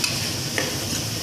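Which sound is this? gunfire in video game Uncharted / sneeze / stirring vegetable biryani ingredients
stirring vegetable biryani ingredients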